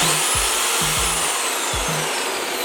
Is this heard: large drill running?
yes